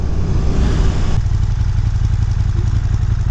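A 2018 KTM 1290 Super Duke GT with a two-cylinder engine and standard exhaust rumbles loud and close, its steady throb shifting character about a third of the way in, with no voices.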